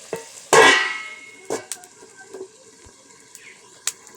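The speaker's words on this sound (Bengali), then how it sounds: "কপি সিদ্ধটা ঢেলে দেবো। আর একটা ঢাকনা দিয়ে দেবো।" Boiled cabbage hits a hot pan with a sharp, loud burst of sizzling, followed by fading crackles and a few clinks of utensils, close up.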